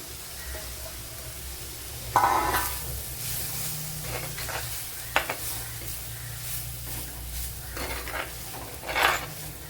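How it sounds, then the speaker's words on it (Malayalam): Grated coconut goes into a squid curry in a pan, giving a soft sizzle with occasional spoon scrapes and stirring knocks against the pan, close and steady, with no talking. "ഇതിലേക്ക് ഇനി ഈ തേങ്ങയും കൂടെ ഇട്ട് കൊടുക്കാം"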